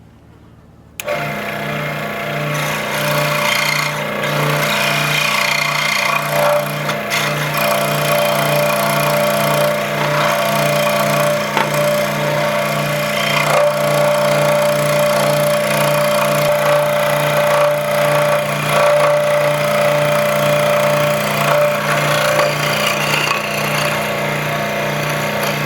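A scroll saw cuts wood with a loud, continuous motor drone and a rapid buzzing blade that runs steadily without pause after a sudden start.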